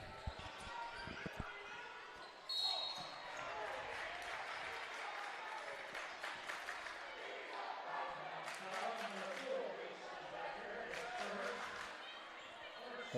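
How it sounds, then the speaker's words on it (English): Norwell fans chant rhythmically in a high school boys basketball gym, their voices blending with crowd noise, squeaks and ball bounces while commentators talk over the game. "the Norwell crowd is trying to chant that Easton Baker is a freshman"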